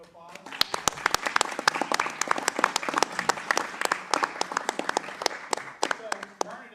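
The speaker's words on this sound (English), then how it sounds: "If we could give Myrna a round of applause." Audience clapping at a board of education meeting for an award recipient, individual sharp claps standing out within a moderate, fairly quiet round of applause from a modest-sized group.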